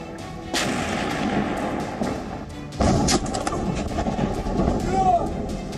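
Artillery shells and gunfire in a wartime Ukrainian city, a dense, continuous roar of blasts and shots with a heavier burst midway, loud and close throughout, with no talking.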